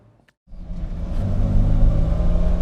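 A Lamborghini Espada's freshly run-in engine fires up and settles into a steady, loud rumble, the note building slightly as the car sets off on a road test drive.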